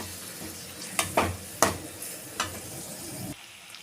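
Tomatoes and onions sautéing for Chettinad mutton vathakal, a low steady sizzle punctuated by several sharp clanks of a spoon against the pan, close by, before the sound drops away near the end.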